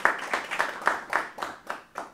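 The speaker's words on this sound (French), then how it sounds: "ça vaut la main d'applaudissement" Brief applause at a municipal council meeting marking a retirement, a handful of people clapping in a steady, moderately close rhythm of about eight distinct claps.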